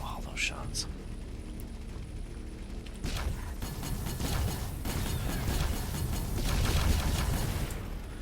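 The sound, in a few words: bolter weapons firing in the video game Avorion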